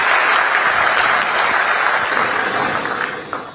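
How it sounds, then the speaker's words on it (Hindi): A large crowd at an appointment-letter ceremony in Lucknow claps loudly and steadily, the applause fading slightly at the end. "बहुत बहुत तालियों से अभिनंदन वंदन कीजिए"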